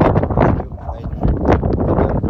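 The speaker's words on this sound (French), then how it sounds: "il y a énormément de vent aussi ici" Heavy wind on the island of Mykonos, Greece, during a cyclone buffets the microphone in loud, rumbling gusts that swell and fade across the whole stretch.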